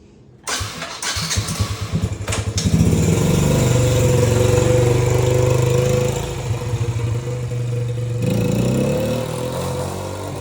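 A supercharged LS V8 burnout car fires up after a brief cranking burst, then settles into a loud, close, rough lumpy idle with rising revs, running alone without talk.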